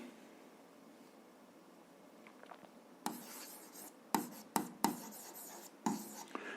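Pen or chalk writing by hand during an algebra lesson comes in after a quiet stretch as a few short scratching strokes with brief pauses, close and fairly faint.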